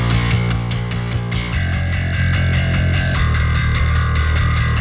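A bass line played loud and continuous through a Distortion Circuit 3 compressor plugin, with repeated notes on a steady rhythm, thick and gritty in tone, alone with no talking.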